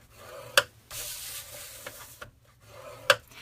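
Card stock is scored at one inch, giving soft scraping rubs punctuated by two sharp ticks as the tool hits the stop, close and quiet with no talking.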